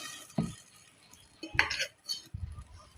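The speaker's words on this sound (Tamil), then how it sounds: "குழம்பு சேர்த்த உடனே இப்படி மசாலாவை கிண்டி விட்டு" Masala is stirred into a pot of banana-flower kola urundai kuzhambu, producing soft, scattered scrapes and light clinks of a spoon against the vessel, close but quiet, with pauses between strokes.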